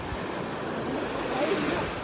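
Sea waves wash quietly around a fishing boat out at sea. It is a soft, steady surf with some wind noise and no talk.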